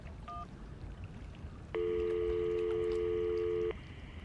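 Telephone keypad dialing in the Syberia adventure game, calling a hotel: a short tone blip followed by a loud, steady two-second dial tone that cuts off cleanly, over low background hiss.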